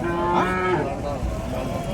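A plough bull at the Madrapalli cattle market lets out one long, loud, close moo that fades into the steady hum of the busy market.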